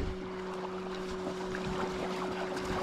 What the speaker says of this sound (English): Boat runs good.